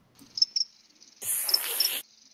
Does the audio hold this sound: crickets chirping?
yes